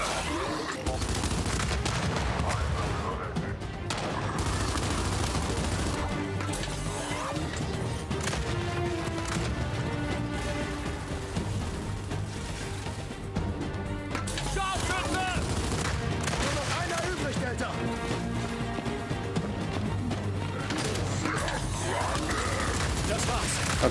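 Continuous gunfire volleys in the video game Gears 5, dense rattling bursts and impacts layered under in-game voices, loud and sustained throughout.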